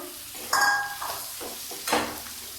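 Boiled potato and pointed gourd are tipped into fried onions in a pan and stirred. There is a short sizzle with a couple of scraping stirs against the pan, close and fairly loud, with no talking.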